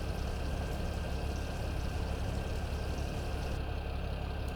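A steady, even rush of water pouring from a tanker into a pig trough in Farming Simulator 2017, running continuously with a low engine-like hum underneath.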